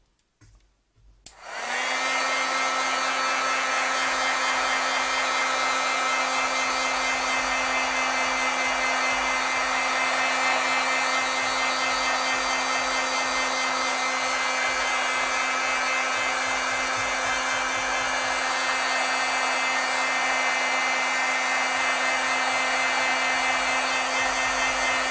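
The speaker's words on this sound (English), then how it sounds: "I think I do need to heat set this." A heat tool runs steadily at close range for about 23 seconds, drying a card painted with acrylic paint; a constant loud whirring blow with a fixed hum, starting abruptly after a moment of near silence.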